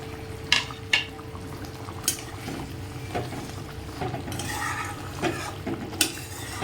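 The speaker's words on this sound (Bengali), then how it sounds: "এবার ভেজে রাখা মাছটাকে আমরা দিয়ে দেবো" Fried pieces of katla fish go into a simmering yogurt gravy in a pan, giving a few sharp clinks and scrapes of a spoon over a low, steady bubbling simmer, with no talking.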